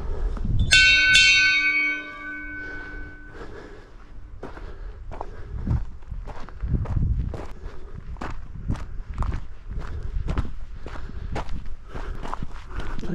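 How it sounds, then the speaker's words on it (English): A bell at a golf course crossing rings out clearly at the start, its tone ringing on for a couple of seconds, followed by steady footsteps crunching along outdoors on a Shropshire hike. "Once they hear the bell, they will stop play until you've crossed."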